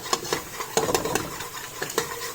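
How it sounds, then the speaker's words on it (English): Eggplant pachadi with spices is sautéed in a pan, and a spoon scrapes and taps against the base in short irregular strokes over a soft, low sizzle, with nobody speaking. "make sure we saute as I'm doing. I don't want anything catching on the base"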